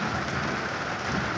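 Rain pelts steadily on a car while the windshield wipers run at the second speed setting, a dense, continuous hiss heard from inside the cabin with no voices.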